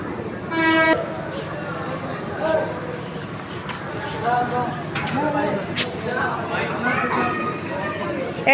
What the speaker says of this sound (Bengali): ট্রেনটা ছেড়ে দিচ্ছে